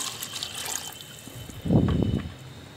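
Water poured into a cooking pot while making chicken pulao, a trickling stream followed by a fuller, louder gush near the end, close and without speech.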